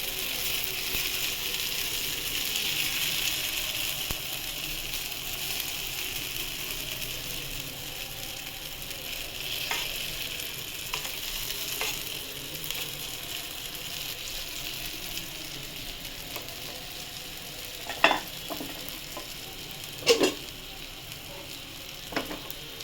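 Mung dal chilla batter spread thin in a hot, oiled pan, frying with a steady close hiss and sizzle, broken near the end by a few sharp scraping clicks, no talk.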